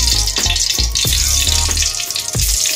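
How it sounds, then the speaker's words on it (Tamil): Mustard seeds and urad dal sizzle in hot oil for tomato rasam, a loud, close crackle with repeated sharp popping bursts over a steady frying hiss, with no voices. "கடுகு உளுந்து பருப்பு போட்டுட்டேன்"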